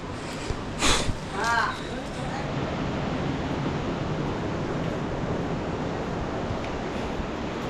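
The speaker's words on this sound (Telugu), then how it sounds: "వాటర్ ఫాల్ చాలా సూపర్ ఉంది కదా పక్కన" A waterfall beside a Himalayan pilgrimage trail on the Chardham route gives off a constant rushing roar that fills the scene, with a voice speaking briefly near the start.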